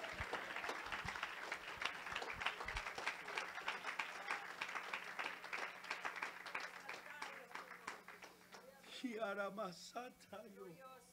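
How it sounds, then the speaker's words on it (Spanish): A church congregation at a sermon on humility breaks into loud, sustained applause with dense overlapping claps, then a voice speaks over the fading clapping near the end. "Denle ese aplauso fuerte al Señor."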